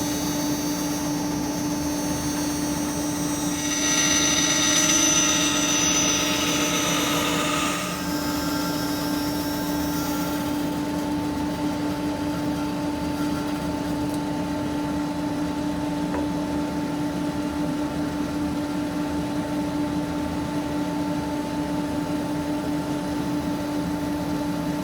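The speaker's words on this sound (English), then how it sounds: "Now I finished the bandsawing." A bandsaw hums steadily as it cuts a block of pine for a roof finial, a constant close machine drone with a brief rise in harsh cutting noise early on before settling back to the running tone.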